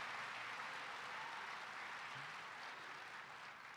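Distant, faint clapping from a large audience at a political speech, a soft continuous wash of applause that stays even throughout.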